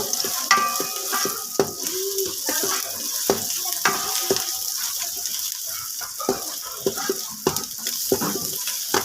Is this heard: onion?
yes